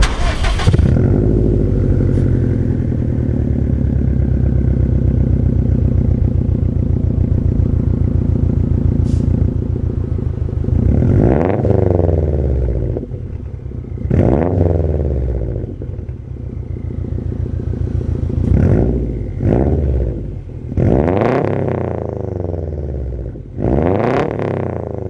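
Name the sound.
Subaru STI Launch Edition exhaust sound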